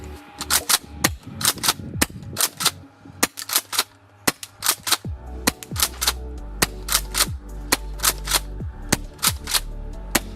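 An airsoft pump-action shotgun with an RGB tracer unit fires repeatedly, sharp snapping shots arriving in quick clusters, interspersed with metallic pump-cycling clacks, loud and close with no talking.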